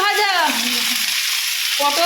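Whole cumin and potatoes going into hot oil in a pan after fish frying, with a loud close sizzling burst over a brief moment and a short tonal scrape of the utensil near the start and end.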